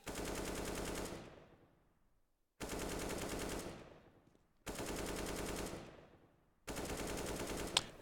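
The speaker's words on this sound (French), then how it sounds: "Le spray dans le jeu, c'est quand vous tirez simplement sans relâcher votre tir." Automatic rifle spray fire in the shooter game CS:GO comes as four loud, sustained full-auto bursts of rapid shots, each about a second long, separated by short silences as the trigger is released.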